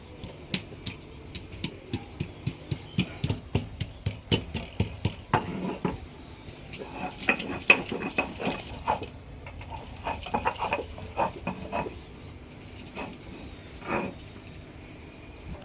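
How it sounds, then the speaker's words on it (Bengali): Half an inch of ginger pounded by hand with a pestle on a grinding stone, first a steady run of sharp rhythmic knocks, then looser, irregular strikes and scraping, close and fairly loud. "এবার আদাটাকে বেটে নেব"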